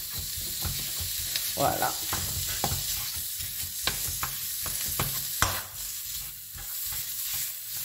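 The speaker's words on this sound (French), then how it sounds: "je vais l'écraser grossièrement pour le faire revenir" Lean 5% fat ground beef sizzles in a pan while a utensil coarsely mashes and stirs it, with repeated scraping knocks over a constant frying hiss; a voice speaks briefly.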